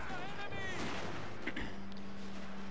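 Massed musket volleys from troops in the Shogun 2 Total War: Fall of the Samurai battle, a dense crackling barrage with scattered pops and booms, partly under someone talking.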